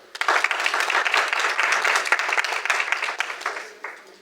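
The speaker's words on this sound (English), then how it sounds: "Please clap for her." An audience at a renewable energy conference in Munyonyo bursts into applause, dense clapping rising quickly and holding steady before tapering off.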